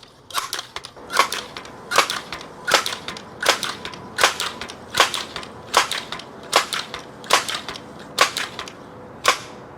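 A Crosman Legacy 1000/2100 air rifle is pumped to the maximum 12 strokes and fired, giving a steady run of about a dozen sharp, evenly spaced clacks close to the listener, with no talking.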